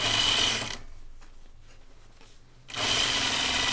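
A domestic sewing machine top stitching a quarter-inch seam along the edge of a shirt dress, running in a loud steady whir that drops away briefly mid-stitch before starting up again, close up and with no talking.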